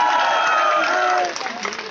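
Applause and cheering from a crowd at a protest sit-in at Eco Garden, Lucknow, over the teacher recruitment reservation issue. The clapping is dense and sustained for about a second, then thins to a lighter patter with crowd murmur.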